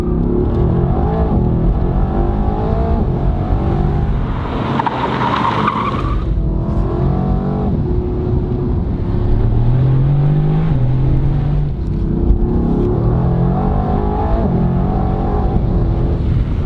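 A Mercedes AMG GT R driving hard, its engine a loud continuous drone that rises and drops as gears change, heard close from inside the car with tire noise underneath.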